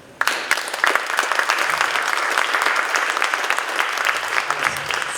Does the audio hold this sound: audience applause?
yes